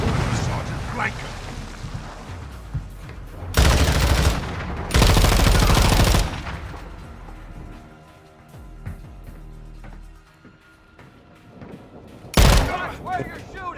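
Loud bursts of automatic gunfire in Call of Duty: Modern Warfare II: two long volleys close together, then a short burst near the end, over quieter game sounds and voices.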